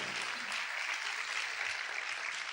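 A church congregation breaks into loud, dense applause, a steady wash of clapping from many hands that fills the room throughout.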